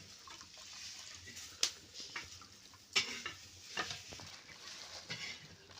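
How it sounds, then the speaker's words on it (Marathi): Soft plops and splashes as fritters drop into a gently bubbling, sizzling pot of boiling curry, a few distinct drops among quiet simmering. "त्या उकळीत भजी टाकणार"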